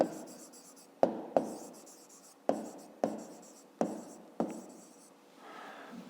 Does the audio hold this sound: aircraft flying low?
no